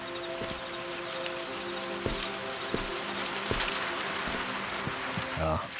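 Rain in the video game Viewfinder makes a steady, even hiss throughout, with occasional soft knocks and a faint tonal hum beneath.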